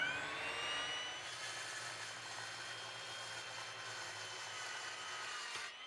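A saw trims the rough edges of a madrone burl slab, giving a faint, steady whining cut that holds for several seconds with no talk.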